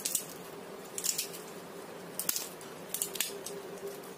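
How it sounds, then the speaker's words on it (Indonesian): Peanut rempeyek, a crispy fried cracker, is snapped into pieces, giving several sharp close crackles and crunches in irregular bursts over a quiet room background. "Seperti ini, aku coba potek ya. Tuh, renyah banget."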